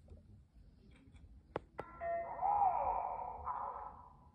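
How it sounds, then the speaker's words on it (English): School bell ringing for lunchtime, two quick sharp strikes followed by a sustained ringing electronic tone that holds for a couple of seconds before fading, faint and somewhat distant. "That's the bell."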